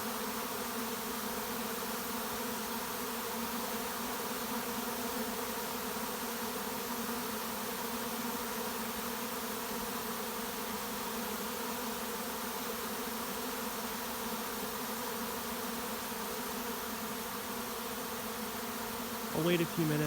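A swarm of honeybees in July gives a steady, dense, continuous buzz that stays at an even level for the full twenty seconds, with no talking.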